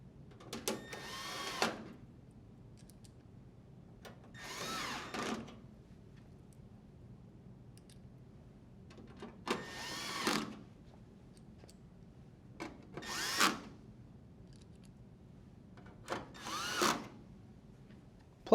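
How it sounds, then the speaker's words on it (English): A power driver spins in five separate bursts of about a second each, driving screws back into a clothes dryer panel. Short, evenly spaced quiet gaps fall between the runs, and faint handling clicks can be heard. "Rethread the 5 screws."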